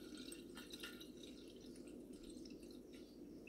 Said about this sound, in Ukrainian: Переливаю обережно, щоб оцей осад не пішов.